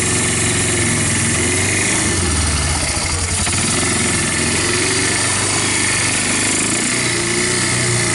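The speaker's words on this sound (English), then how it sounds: "I don't have an air filter on it, so it might sound like it's sucking wind a little." A Polaris Bear Tracker 250 ATV engine fitted with a PZ30 carburetor and no air filter runs continuously and loud with a harsh, rattling, breathy drone that stays fairly steady throughout.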